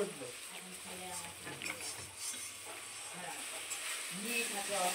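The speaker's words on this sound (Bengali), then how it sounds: "আর এদিকে সব রান্না বান্না হচ্ছে" Food fries in a pan at a home birthday gathering, a steady hiss and sizzle with stirring, heard close while voices talk over it.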